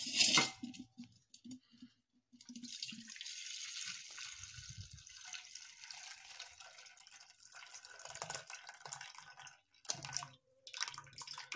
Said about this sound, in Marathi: आता हे पाणी आहे मी पूर्ण काढून घेणार आहे.